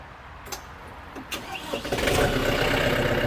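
A Yanmar YM358R tractor's 16-valve engine cranks with a few clicks and catches, then settles into a loud, steady diesel rumble close by.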